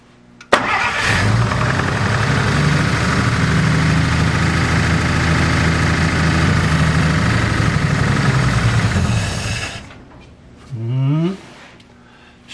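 A 1949 Pontiac engine, freed from being stuck, cranks loudly in a steady rhythmic churn for about nine seconds, then stops, followed by a brief whirring sweep.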